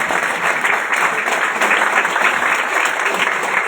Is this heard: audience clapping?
yes